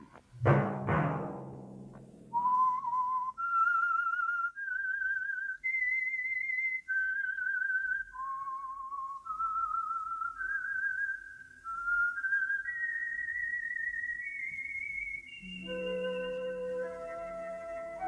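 A clear, melodic whistled tune from an old-time radio mystery show rises step by step through sustained notes, preceded by a brief burst of other sound at the start.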